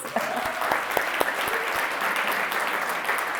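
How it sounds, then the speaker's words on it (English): An audience claps for a minister at an immigrant professionals conference, a moderate round of applause with a few distinct nearby claps standing out, steady throughout and free of talk. "give him another round of applause, please"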